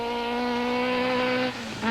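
A rally car engine idles at a shakedown, a steady buzzing drone that holds level and then briefly dips and recovers near the end, with no talk over it.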